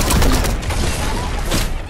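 Rapid bursts of gunfire in an online shooter game, loud and dense across the whole moment, with a few sharper cracks standing out near the start and end.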